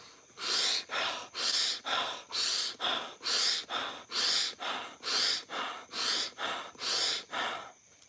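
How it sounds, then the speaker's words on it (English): Deep breathing in and out through the mouth as a breathing exercise, about fourteen strong, rhythmic, close-up breaths that follow one after another with no talking. "so deep breathing, let's say in and out through your mouth"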